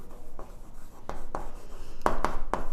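Chalk or marker writing out equations for a Class 10 quadratic equations maths lesson, a few short scratchy strokes tapping in quick succession, close and fairly loud, with no talk over them.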